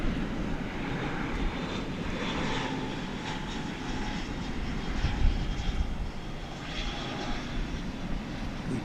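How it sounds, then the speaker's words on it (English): An American Airlines Airbus A321 arriving from Phoenix at DFW International Airport produces a steady, broad engine roar that holds throughout, swelling slightly near the middle, with no voices present. "We do have this incoming flight from Phoenix, Arizona, an Airbus A321"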